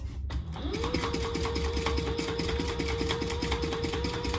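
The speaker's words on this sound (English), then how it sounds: "just sew down all 3 sides, not the top" A sewing machine stitches down the sides of a small slip pocket on a phone crossbody bag, a close, fast, even whirring stitch rhythm that starts after a brief pause and continues steadily.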